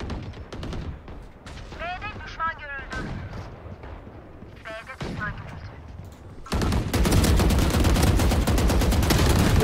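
Gunfire in Valorant, with bursts of rapid shots that build into a dense, loud stretch of continuous firing near the end, mixed with in-game sound effects and voice chatter.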